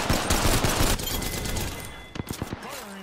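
Rapid video game gunfire in an Apex Legends-style squad match, with a burst of dense automatic fire giving way to a few separate sharp shots near the end.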